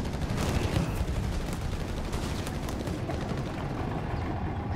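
Sustained battlefield gunfire from Company of Heroes 3, a dense, steady crackle of rifle and machine-gun shots mixed with distant booms, continuous and fairly loud throughout with no one talking.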